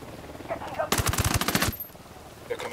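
A burst of rapid automatic gunfire in the Ghost Recon Wildlands video game, loud and close, lasting under a second with sharp repeated shots, then fading into quieter ambience.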